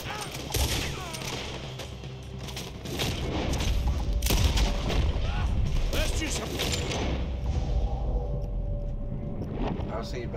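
A shootout in Red Dead Redemption 2 brings a steady barrage of gunshots and bursts from several guns, loud and busy over game sound, while voices talk through it.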